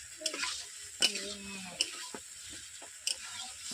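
Homemade chicken curry pieces being stir-fried in a pan, a soft background sizzle with a few sharp spoon clinks against the pot and a brief voice-like tone mixed in.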